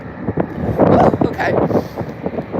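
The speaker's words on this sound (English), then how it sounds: "Yeah, it's a little windy." Gusty wind buffets the microphone outdoors at the Santa Fe train depot, a low rumbling roar beneath a person talking throughout.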